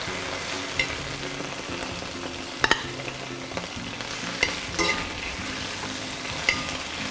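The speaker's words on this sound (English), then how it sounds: "And then I'm gonna add the vegetables on it." Pre-cooked vegetables, including zucchini, sizzle in olive oil in a pan. The frying is steady and fairly close, broken by stirring scrapes and a few sharp clinks of a utensil against the pan.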